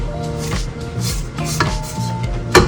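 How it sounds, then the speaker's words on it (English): A spatula scrapes around the side of a mixing bowl of banana bread batter in a series of short knocking strokes, each ending in a brief clatter, close and fairly loud, with a low hum underneath and no talking. "scrape the side of the bowl just to make sure everything is uniformly mixed"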